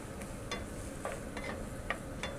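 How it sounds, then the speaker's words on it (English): Onions sautéing in a hot pan at 400 degrees: a soft, steady sizzle with a few light scrapes and stirring clicks, close but fairly quiet, with no talking. "our onions are starting to saute here"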